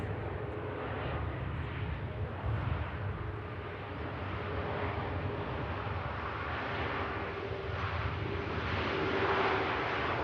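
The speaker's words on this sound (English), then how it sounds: "Flight 1668 touches down." A fixed-wing airliner lands at Manchester Airport, its engines a steady broad roar heard from a distance and rising slightly toward the end, with no talking.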